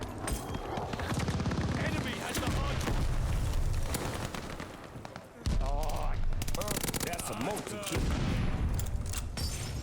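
Rapid bursts of Cooper Carbine automatic gunfire in a shooter video game, with rattling volleys and booms from other weapons, continuous and dense, a brief gap partway through.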